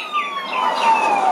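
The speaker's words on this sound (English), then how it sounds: "The police just arrived." A police car siren from the video game Mega Man Legends wails continuously, its sweeping tone rising and falling at steady loudness with no talk over it.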